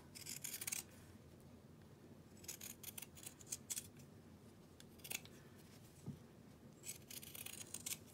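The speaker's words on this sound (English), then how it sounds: "if you want to clip the curves, you can, or you could just use pinking shears if you have them" Scissors snip around the curved seam allowance of sewn apron fabric: quiet, crisp clicks in short bursts, some in quick runs, spread across a soft, hushed background.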